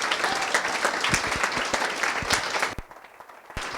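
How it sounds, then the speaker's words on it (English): A room at a state real estate commission meeting breaks into applause, dense clapping that fades out near the end, leaving a few last claps. "give her another round of applause"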